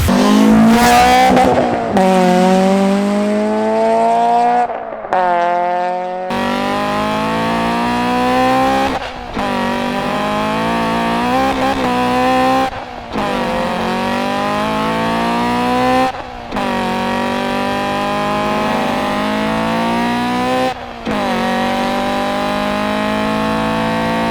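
A Honda CRX with VTEC is driven hard, the engine screaming up through the revs in repeated long pulls, each broken by brief pauses at gear changes, loud and close, with no voices.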